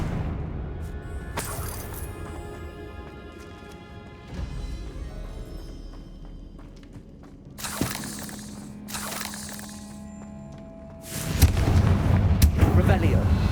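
Confringo fire spell blasts in the Hogwarts Legacy video game, several sharp explosive bursts and crashes spaced across the stretch, the last one loudest and longest, with a voice speaking in between.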